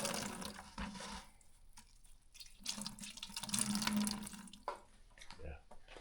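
Water from a leak drips and trickles into buckets beside a workbench, a close, wet patter that swells and fades over a low room hum.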